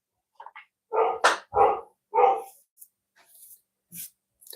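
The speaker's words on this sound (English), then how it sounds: "Can you guys hear my dog?" A dog barks a quick run of four or five loud, close barks in a home pottery studio, followed by a few fainter yips and whimpers with quiet gaps between.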